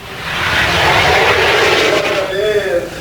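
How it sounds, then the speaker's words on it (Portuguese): An F-5 fighter jet of the Brazilian Air Force gives a loud, steady engine roar that swells and holds, with a rising whine near the end and a voice faintly beneath. "Este aqui é um caça F-5 da Força Aérea Brasileira"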